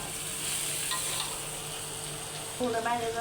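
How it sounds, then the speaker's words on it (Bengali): Pointed gourd and potato pieces are sautéed with spices in a pan, a dense, even sizzle and stirring hiss that continues as a voice briefly comes in near the end. "পটল আর আলু মশলার সঙ্গে ভালো করে কষাই নেব।"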